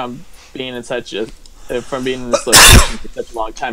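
One loud, sharp sneeze breaks into steady close-up speech and stands out as a sudden noisy burst in the middle of the talking.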